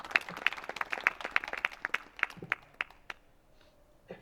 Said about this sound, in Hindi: मैं चाहूंगा कि आप ताली बजाकर उसका स्वागत करें